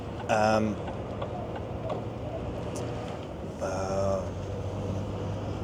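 Blind spot warning chime inside a new truck cab triggered while indicating left, two short bright tonal beeps a few seconds apart over a low steady engine rumble.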